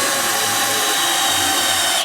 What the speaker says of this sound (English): I've marked out the centre, just going to drill it now.